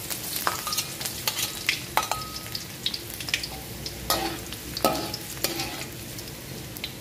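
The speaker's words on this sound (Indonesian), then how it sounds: "Minyaknya sudah panas, kita masukkan bawang putih." Garlic crackles in hot oil with a busy, close sizzle, punctuated by scattered spatters and the clack of a utensil stirring in the pan. No one speaks.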